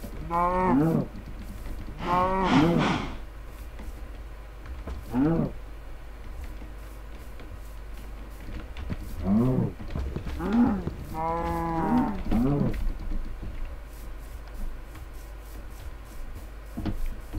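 Cows in the video game Minecraft moo repeatedly, with a few drawn-out calls at the start and a cluster of overlapping moos near the middle. They are fairly loud against a steady low background hum.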